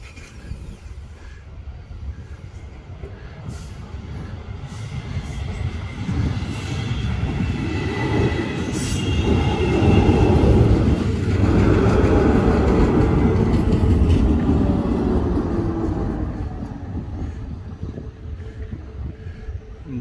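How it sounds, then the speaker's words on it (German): A train coming from Biel passes through a small Swiss town, its rumble swelling from moderate to loud around the middle and then slowly fading, with faint wheel squeal and no talk. "Jetzt kommt ein Zug"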